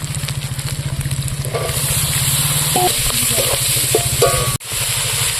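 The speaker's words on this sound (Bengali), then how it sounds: "এখন আমি দিয়ে দেব বেগুন" Eggplant tipped into hot oil left from frying rui fish, breaking into a loud, steady sizzle with scraping and clinking of a utensil against the pan, heard up close.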